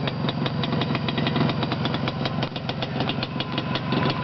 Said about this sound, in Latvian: Nu, motoru vajag, to vajag dzirdēt.